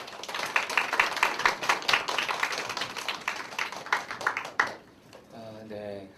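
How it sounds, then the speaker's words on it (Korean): A church congregation at a college worship service claps in welcome as a pastor comes forward: several seconds of uneven, rhythmic group clapping that thins out and stops, followed by a brief moment of speech. "우리 나오실 때 우리 환영의 박수 하도록 하겠습니다"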